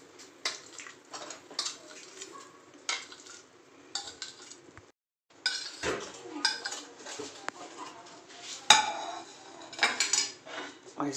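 Raw mango pulp being stirred into sugar syrup in a pot, heard as intermittent metallic clinks and scrapes of a spoon against the pot, fairly close and moderately loud, with brief pauses between strokes.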